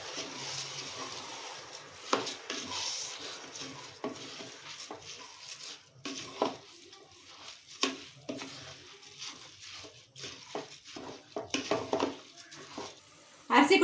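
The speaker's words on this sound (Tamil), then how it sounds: "இப்போ அரிசி கொட்டிக்கலாமுங்க. போட்டு கிளறிக்கலாமுங்க." Rice for mint biryani is tipped into a pot and stirred, giving a rustling, scraping rattle of grains against metal with a faint sizzle underneath and occasional clinks, moderately close.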